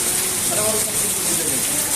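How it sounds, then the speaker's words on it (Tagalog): Steady, dense hiss of heavy rain pouring continuously at a beach resort in Morong, Bataan, Philippines, with a faint voice murmuring underneath. "Sobrang lakas na naman ang ulan ngayon."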